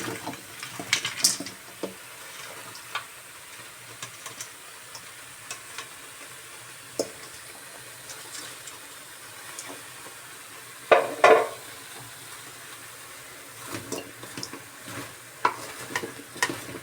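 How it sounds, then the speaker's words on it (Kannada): Spiny gourd pieces dry-roasting in a pan, with quiet, intermittent stirring scrapes and soft clicks against the pan, plus a faint sizzle, and a louder scraping burst near the middle. "ನೀಟಾಗಿ ಡ್ರೈ ಆಗಿ ಉಕ್ಕೊಳ್ಳೋಣ"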